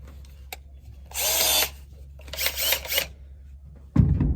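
An old Milwaukee power drill drives screws while a toolbox is installed in a new truck: two whirring bursts of about half a second each, then a short pause, a small click and a loud thump at the end.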